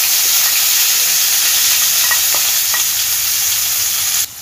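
A spice paste of coriander, cumin, ginger, green chilli and Kashmiri chilli sizzling loudly as it is sautéed in oil for a pointed gourd korma, a dense steady hiss with scattered crackles, cutting out briefly near the end.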